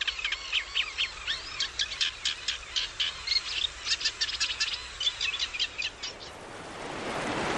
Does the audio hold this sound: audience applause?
no